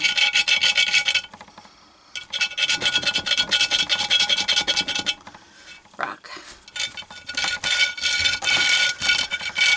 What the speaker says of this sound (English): you can actually take a piece of your rock and sand it down